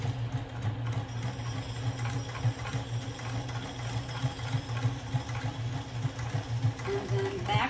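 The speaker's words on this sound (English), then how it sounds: "and then I'm going to continue sewing" A sewing machine stitching a shoulder bag pocket onto its lining hums with a steady pulsing motor rattle, close and continuous throughout.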